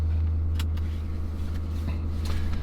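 A 2020 Ford Power Stroke diesel truck engine idles steadily in snowy, near-zero cold, a low constant rumble heard from inside the cab with a few faint clicks and light rattles over it.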